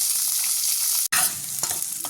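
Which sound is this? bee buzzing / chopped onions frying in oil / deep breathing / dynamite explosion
chopped onions frying in oil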